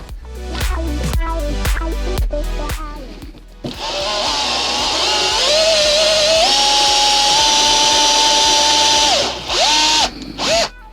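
A router cuts a truss rod channel into a guitar neck blank in a small workshop. A few knocks and taps come first, then a loud, close, steady high-pitched whine runs for several seconds, with a brief dip before it winds down.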